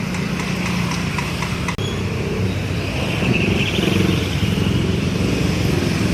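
Heavy street traffic near Bekasi station, with many motorcycles idling and revving close by in a steady, loud wash of engine noise.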